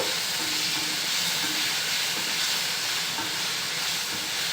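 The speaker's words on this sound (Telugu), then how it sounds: "ఆ తర్వాత ఇందులో వేసుకొని ఫ్రై చేసుకోవాలి." Ginger garlic paste frying with onions for aloo kurma, giving a steady, close sizzle that fills the whole clip with a constant hiss and no talk.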